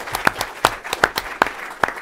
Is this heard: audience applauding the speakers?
yes